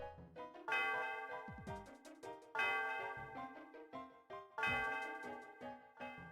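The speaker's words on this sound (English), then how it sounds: "Yeah, I'll ring the bell." A bell rung in the Pokémon Black video game, three bright tolling strikes that each ring out and decay before the next, clear and alone.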